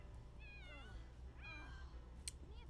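A pet cat in The Sims 4 gives two quiet, drawn-out meows about a second apart, faint and alone.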